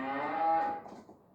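A cow on a Burgundy farm gives a single deep, drawn-out moo, close by and clear, fading into quiet at the end.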